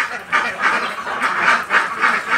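Pond ducks quacking in a loud, close, repeated series of nasal calls, several overlapping bursts in quick succession with no talking.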